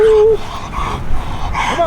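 A hot dog doing bite work training pants and lets out a high whimper, close and loud, with yips and breathy huffs while a person calls encouragement nearby.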